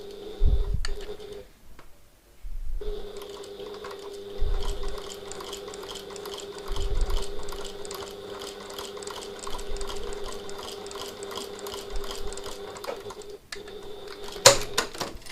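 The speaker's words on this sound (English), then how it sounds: "I like to use a couple of rows of stitching just back and forth there to secure it" A sewing machine stitches a strap back and forth onto a tote bag in fast, rattling bursts, stopping briefly and starting again, with short thumps and a few clicks from handling in between.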